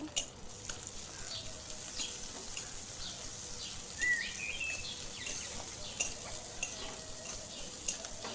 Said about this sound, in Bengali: এগুলো একটু নাড়াচাড়া করে নেব।